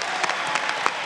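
Brief burst of applause in a parliamentary session in the Argentine Chamber of Deputies, a dense even spread of many hands clapping with no speech over it.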